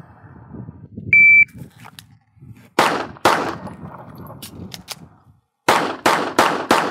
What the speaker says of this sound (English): he's going to draw, shoot 6 shots. When he finds out the gun's empty, emergency reload, and finish